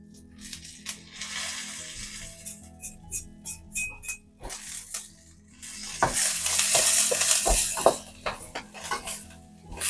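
Curry leaves and garlic frying in a pan over a low flame for sundakai pickle, a steady near sizzle with stirring and occasional clinks of a utensil against the pan, no voices.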